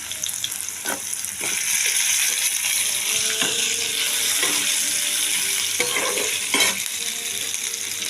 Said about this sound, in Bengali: আর পাঁচ ফোড়ন তেলের মধ্যে দিয়ে দিলাম দিয়ে এবারে আমি আলুগুলোকে ছেড়ে দিচ্ছি